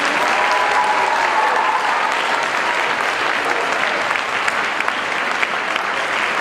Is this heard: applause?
yes